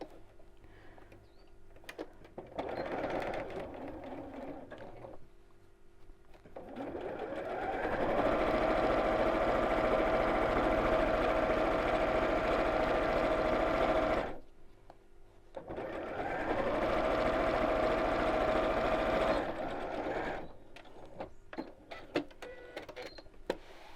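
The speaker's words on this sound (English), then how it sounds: "we're going to sew all the way around the edge again" A sewing machine stitches around the edge of a fold-away tote bag in two sustained runs of steady whirring hum, separated by a short pause with quiet handling noises before and after.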